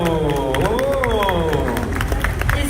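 A crowd at a Dragon Ball dubbing convention claps and cheers steadily and loudly throughout, with a voice carried over the noise of the room.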